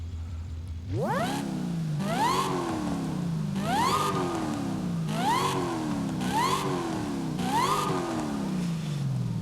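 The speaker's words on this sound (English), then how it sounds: "Man, that supercharger whine." A supercharged Dodge engine in the video game Forza Horizon 5 revs repeatedly in rising surges, each climb topped by a high supercharger whine, about six pulls in a steady rhythm.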